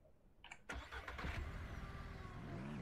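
A car engine cranks and catches in Ranch Simulator, a sharp start followed by a steady mid-pitched idle that hums on quietly at close range with no talk.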